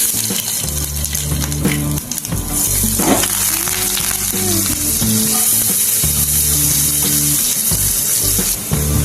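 Mustard seeds, curry leaves and garlic sizzle and crackle loudly in hot oil, broken by bursts of stirring and clatter from the pan, with no voices.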